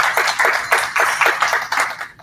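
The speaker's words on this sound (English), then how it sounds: "round of applause" Applause at a charity golf tournament, a small group's sparse, distinct claps in an uneven rhythm, close and clear, fading at the end.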